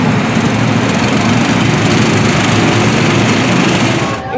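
Go-kart engines on the Big Easy Speedway track at a Six Flags America amusement park, a loud, continuous buzzing small-engine drone that holds steady throughout and eases off slightly at the end, with no talking.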